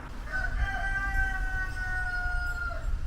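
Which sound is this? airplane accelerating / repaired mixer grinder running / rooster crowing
rooster crowing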